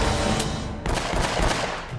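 Gunfire bursts in Uncharted: Drake's Fortune Remastered, a headshot among a rapid fusillade of shots, loud and continuous across the clip with dense overlapping reports.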